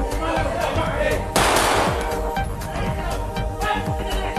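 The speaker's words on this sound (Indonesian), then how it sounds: "Polisi meletuskan tembakan peringatan berkali-kali agar mereka menyerahkan diri." Police fire warning gunshots near a river in Bandar Lampung, sharp repeated cracks and bursts over a noisy crowd and ambient rumble, with a loud blast partway through.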